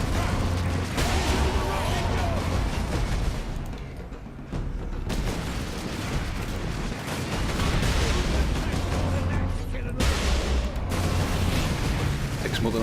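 Lascannon firing at an orc in the Space Marine video game, heavy booms and blasts amid continuous loud combat noise with mechanical clanks, and a voice talking throughout.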